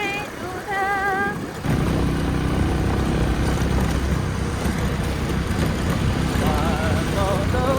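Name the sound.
small motorcycle being ridden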